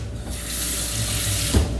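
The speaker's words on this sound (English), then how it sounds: "I think I'm gonna put a drop more water in it" Tap water runs steadily into a cooking pot, a close, continuous rushing splash that starts abruptly and holds for over a second before a small knock near the end.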